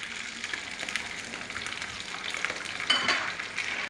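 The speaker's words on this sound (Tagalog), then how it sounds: "Kaya ngayon naman eh, ipiprito po natin ang bahagya yung turkey." Turkey pieces frying in hot oil in a pan give a continuous crackling sizzle, close and steady, with some stirring and a brief louder burst near the end.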